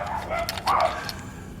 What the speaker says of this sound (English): Excuse my neighbor's dogs. They're barking at a cat